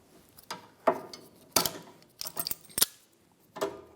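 Rear sway bar link nut being removed from a 2013-2017 Honda Accord, heard as several sharp metallic clicks and ratcheting bursts, close and irregular, with short pauses between them.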